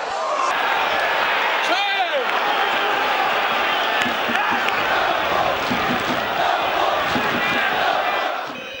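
Football supporters of 1. FC Magdeburg cheer a hard-won away draw, a dense, steady crowd roar with chanting and shouts that holds loud throughout and never drops away.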